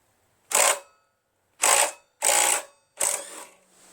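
A hand ratchet and socket work on a Honda GX160 engine from a Mikasa Multiquip plate compactor, four short, close, clicking bursts separated by brief silences.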